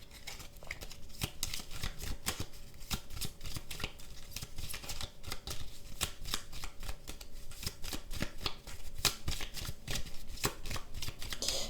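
A deck of cards for a card reading is shuffled again and again up close, giving a rapid, rhythmic flutter of riffles and slaps that continues without a break.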